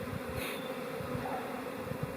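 A small honeybee swarm moving into a Warre hive makes a dense, continuous buzzing hum, close and steady, with no voices over it.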